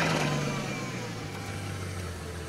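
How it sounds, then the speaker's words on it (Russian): Engine of a Bugatti Chiron running and revving, a fairly faint, steady mechanical rumble with a slight rise and fall, heard alone without talk. "запустите двигатель, пожалуйста, ну, чтобы я звук записал"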